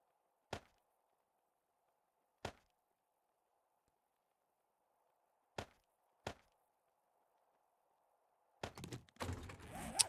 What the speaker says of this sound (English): I'm going to stay here chopping trees.